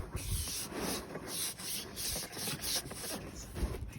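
Sandpaper rubbing around a leather steering wheel rim during repair, a close, steady scratchy back-and-forth rasp with rhythmic strokes and no talk.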